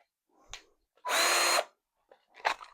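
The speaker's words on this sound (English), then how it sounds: "your cordless drill is what most people start out with" A Greenworks 24V cordless drill whirs in three short bursts: a quick blip, a longer steady run of about half a second, then another brief spin, close and clear against silence.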